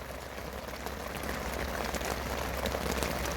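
Steady rain falling outdoors on a Friday morning, a continuous close hiss of drops pattering on surfaces at an even level with no talking over it.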